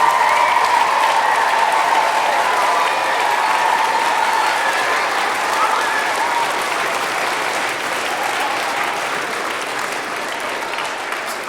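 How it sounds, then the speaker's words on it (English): A large audience in Snape Maltings Concert Hall applauds at a big choral singing event, a long, even roar of many clapping hands with a faint sustained tone underneath, slowly easing in level. "can you give yourselves a huge round of applause?"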